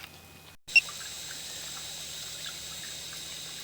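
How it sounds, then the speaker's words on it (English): Water from a hose runs steadily down a household drain line, a continuous faint hiss and trickle after a brief cut and click at the start. "I'm running some water down here with the hose"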